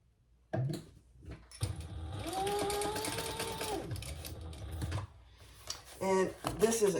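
A sewing machine stitches the seam of a purple crossbody bag, running steadily for several seconds at close range with a short burst afterward, and a voice speaks at the start.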